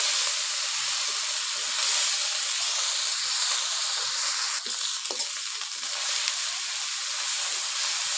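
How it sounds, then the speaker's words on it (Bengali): Ground cumin and coriander paste sizzles in hot oil for a fish and bean-seed curry, a loud, continuous close frying hiss with occasional pops and stirring scrapes and no speech. "ভালোভাবে মশলাটা একটু কষিয়ে নিয়ে"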